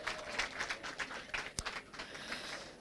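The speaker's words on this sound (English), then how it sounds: "Can we give ourselves a big round of applause?" Audience applause at an International Women's Day celebration held at a bank, with scattered clapping that rises and falls in rhythmic bursts, one sharper clap standing out near the middle.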